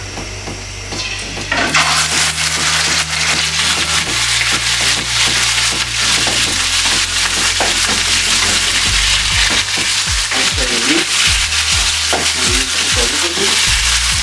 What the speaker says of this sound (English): because the pan is already warm, I'll throw in my meat.